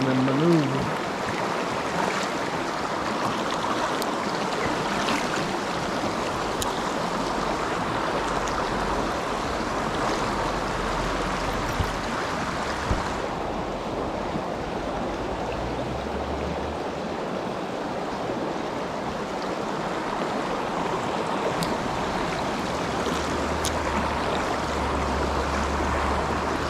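Creek water rushes and swirls steadily with a broad, constant wash, close and loud throughout, with wind buffeting the microphone at times.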